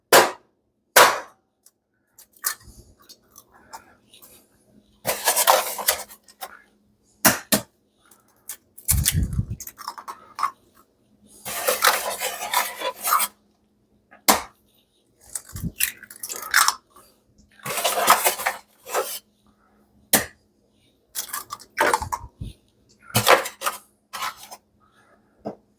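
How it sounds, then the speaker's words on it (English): Eggs cracked one after another into a cast iron skillet while a no-crust shrimp quiche is assembled, giving sharp, close clicks and crunches with soft splats and shell handling between bursts and no talking. "we're going to put 6 eggs in here"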